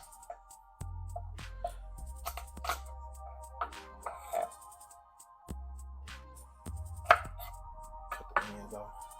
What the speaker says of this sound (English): Now we're gonna work on our garlic. We're gonna smash these.